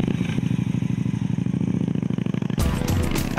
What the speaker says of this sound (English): At the heart is the 106 cubic inch V-twin, thumping out around 85 brake horsepower and 110 pounds of torque.